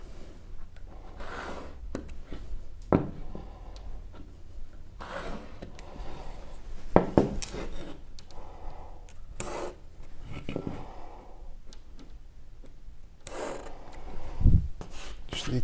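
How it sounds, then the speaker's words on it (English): A plasterboard jab saw cuts through plasterboard in bursts of rough, rasping strokes, close and irregular, with short pauses between the sawing runs. "thanks to Ox for providing this plasterboard saw or jab saw"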